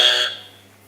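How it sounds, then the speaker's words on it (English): A quiz buzzer at a media summit gives a single short electronic buzz, bright and close, then fades quickly into quiet room hum. "You got the buzzer there."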